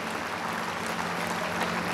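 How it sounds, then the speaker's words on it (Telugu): Steady applause from an audience at the Abhya Foundation 12th anniversary event, a dense wash of many hands clapping at a moderate distance, heard alone without talk. "let's all give a thumping clap for such wonderful human beings"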